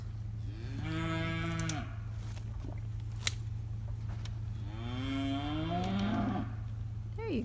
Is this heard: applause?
no